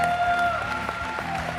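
A crowd applauds in a packed arena at the Capcom Cup 9 fighting-game final, a dense, steady wash of clapping and cheering with a faint voice over it.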